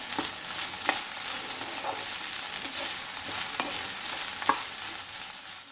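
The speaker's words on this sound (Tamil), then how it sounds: "சேர்த்துட்டு இது நல்லா மிக்ஸ் பண்ணிக்கலாம்." Steady sizzling of vegetables frying in a pan, with occasional scraping clicks of a utensil stirring, fairly quiet and close.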